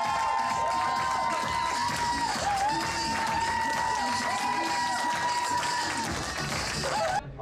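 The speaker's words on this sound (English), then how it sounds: "give a huge round of applause to Mr." A crowd at a health talk applauds and cheers for speaker Ralf Behn, with dense clapping, whoops and shouts mixed with music and voices, continuing steadily before cutting off near the end.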